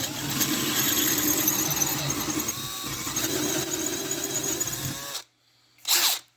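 An electric drill with a drill bit enlarges a hole in a part of a Honda CT70 being restored, giving a steady, loud whining grind with squealing cutting noise that stops abruptly, followed by a short burst of another noise.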